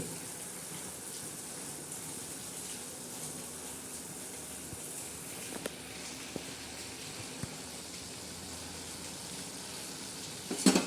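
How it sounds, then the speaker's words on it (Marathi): Green chili usal cooking in a pan gives a steady, low sizzle and bubbling hiss throughout, with a few faint scrapes and knocks of stirring and a louder clatter at the very end. "आता आपण मस्त असे हलवून घेऊया"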